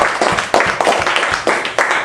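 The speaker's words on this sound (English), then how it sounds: "Thank you very much for your applause." Live audience at a New York comedy show clapping for a comedian making his debut, crisp, loud and rhythmic, with repeated bursts of hand claps swelling and renewing across the clip.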